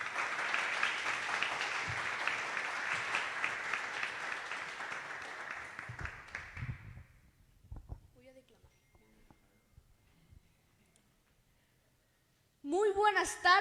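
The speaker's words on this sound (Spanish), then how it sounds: "Lo recibimos a él con un fuerte aplauso." Audience at a poetry recitation event applauds a child poet for about six seconds, dense clapping that thins and stops, followed by quiet shuffling and a brief voice at the end.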